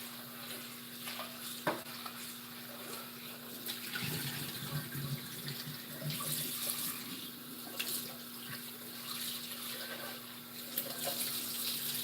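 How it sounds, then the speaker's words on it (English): Water runs steadily from a kitchen tap as a bowl is washed out after cooking pumpkin, a continuous quiet splashing with occasional knocks and clinks, no talking. "Wash this bowl out."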